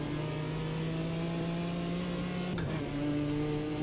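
A Ginetta race car engine in Automobilista 2 holds a steady, light-sounding tone, then shifts pitch sharply as it changes gear, continuous and fairly quiet with no talking.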